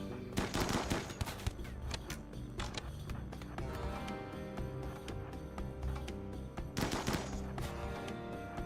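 RimWorld gunfire crackles steadily throughout, with repeated rapid shots and a couple of denser bursts of firing close together, loud and continuous with no talking.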